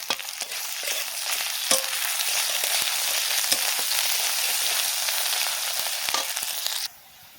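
Chopped onion and ginger-garlic paste sizzle steadily in hot oil for a bitter gourd and potato fry, a dense continuous crackle with occasional sharper pops from stirring, cutting off abruptly near the end.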